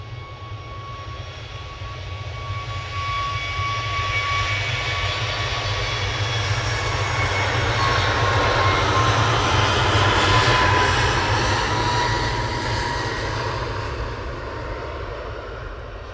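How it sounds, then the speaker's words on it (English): Ryanair jet airliner taking off from Manchester Airport at sunset, a sustained, loud engine roar with a thin high whine, building gradually, peaking around ten seconds and then slowly fading. "Okay, Ryanair is rolling."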